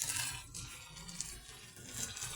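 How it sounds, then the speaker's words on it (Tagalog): Water pours into a cooking pot of sautéed garlic, onion, ginger and tomato for a sotanghon noodle dish with sardines, giving a steady splashing rush at close range with no voices. "Tapos ito, lagyan natin tubig"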